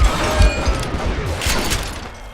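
Rapid gunfire from the Western shooter game Call of Juarez Gunslinger, a dense, loud burst of overlapping shots and booms that continues through the whole moment.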